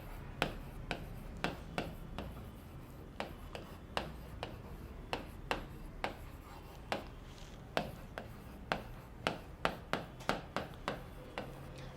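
Marker or chalk strokes on a board while vertex correspondences are noted for a congruent-triangle problem, a string of short, crisp taps and scrapes at an irregular pace, fairly close, with no talk.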